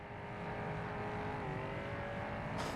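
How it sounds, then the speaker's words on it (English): Race car engines revving at a track, a loud, sustained mechanical drone with shifting pitch throughout and a sharp higher burst near the end. "Oh, these cars sound amazing."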